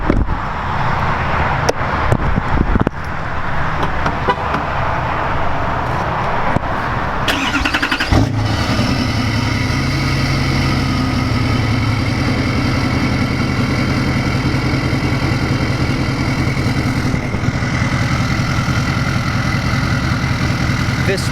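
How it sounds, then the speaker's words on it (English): Tuned L5P Duramax diesel truck cold-starting after some handling noise, then settling into a loud, steady, rumbling idle that runs close and continuous for the rest of the time. "Actually, we're gonna do a little cold start."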